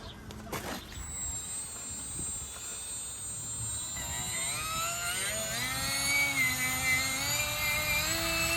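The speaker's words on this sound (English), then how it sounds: "this is the straight die grinder." Cordless straight die grinder trimming a horse's hoof, its high whine rising and steadying with a grinding buzz, close and continuous after a few short handling knocks at the start.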